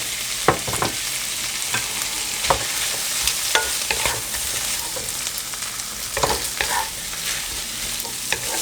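Shrimp stir-frying in a pan for spicy glass noodles with cha-om, a close, steady sizzle broken by repeated sharp scraping strokes of a spatula across the metal.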